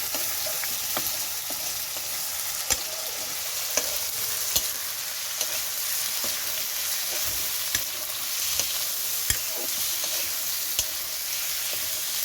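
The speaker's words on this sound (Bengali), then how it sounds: "তারপরে পরিমাণ মতন লবণ দেওয়ার পরে আমরা একটু নাড়াচাড়া করে দেবো" Curry is stirred in a pan after salt goes in, with a low steady sizzle punctuated by sharp scraping clicks of a spoon against the pan every second or so.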